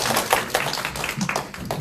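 Scattered clapping from a small audience at a book talk, a few distinct loud claps mixed with softer hand claps, uneven and brief rather than a full sustained round.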